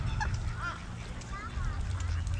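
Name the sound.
geese honking near water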